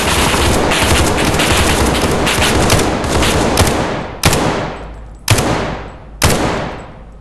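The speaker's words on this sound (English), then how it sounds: "Good shooting, Tex." Gunfire in the co-op shooter SCP: 5K during an Area 12 raid: a long stretch of dense, sustained automatic fire, then three separate loud booming shots, each trailing off in an echoing tail. No talking.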